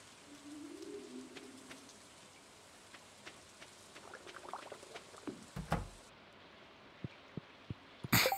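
Light pattering rain from the farm-life game Stardew Valley, soft and steady, with scattered brief ticks and a sharper burst near the end.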